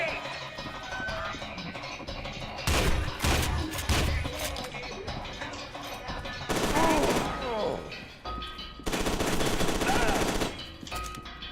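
Submachine gun fire in the shooter game F.E.A.R. 2: Reborn comes in loud, rapid automatic bursts, three dense volleys separated by short gaps, over a steady game ambience.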